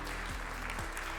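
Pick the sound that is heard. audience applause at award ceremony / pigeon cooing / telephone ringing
audience applause at award ceremony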